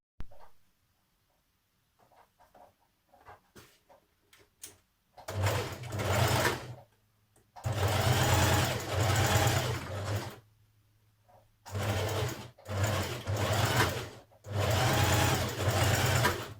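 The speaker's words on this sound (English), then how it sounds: "So we're going to stitch this seam first" A sewing machine stitches the seam of a jersey dress in several loud runs of humming, rattling motor sound, after a quiet stretch of faint clicks and fabric handling.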